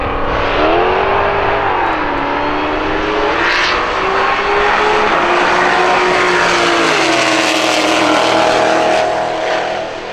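Roll racing at Bandimere drag strip in Denver, with cars including a green Volkswagen and a Ford Mustang: loud, continuous engine roar with rising and falling revs as the cars accelerate, no talk heard.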